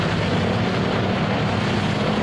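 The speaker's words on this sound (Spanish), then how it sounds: "Los aviones recorrían la pista improvisada, preparándose para despegar con los tanques llenos de combustible." Propeller airplanes taxi along a makeshift runway before takeoff, with a continuous, dense engine drone that stays steady and moderately loud throughout, with no voices.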